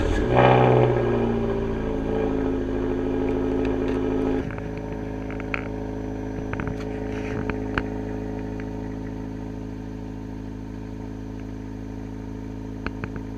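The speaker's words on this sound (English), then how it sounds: "ask someone to rev up the engine a little bit" A 2012 Fiat Abarth engine is revved briefly at the start, a short climb in pitch that drops back to a steady, fairly close idle hum for the rest.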